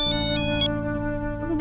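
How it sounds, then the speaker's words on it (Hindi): A mobile phone ringtone sounds for an incoming call, a bright melodic electronic tone that rings out clearly on its own with a short repeating pattern. "अरे बायसा का फोन"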